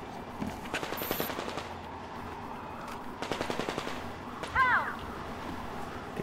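Rapid automatic gunfire from a weapon in the video game Metro Exodus comes in two short bursts, loud and close, over a low background rumble, with a brief electronic chirp afterward.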